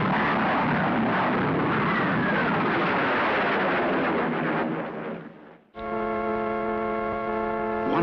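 Sonic boom as a supersonic aircraft pulls out of a dive: a loud sustained roar that dips briefly, then returns as a steady tonal rumble.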